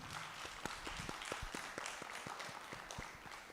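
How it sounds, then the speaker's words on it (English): Audience at a meet-the-author book session giving a final round of applause for Cape Verdean writer Joaquim Arena, a thin scattering of separate claps from a small crowd, moderately close, fading toward the end. "A final round of applause for the author"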